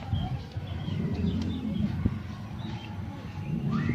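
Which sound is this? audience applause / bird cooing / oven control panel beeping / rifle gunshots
bird cooing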